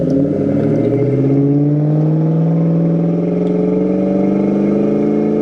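A 2004 Ford Mustang Mach 1 with a shaker hood drives over a bumpy road, its engine note rising steadily and droning loud and close throughout, with faint clatter from the rough surface and no talk.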